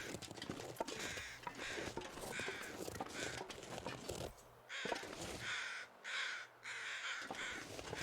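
Crows in The Long Dark video game give harsh, repeated caws in short rhythmic bursts. They sound fairly close and loud over a quiet outdoor backdrop, with no talking.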